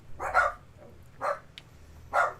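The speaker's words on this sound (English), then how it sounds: "Sorry, my dogs are barking." Dogs barking at home in three separate bursts spaced about a second apart, moderately loud and somewhat distant, over a low background hum with no talking.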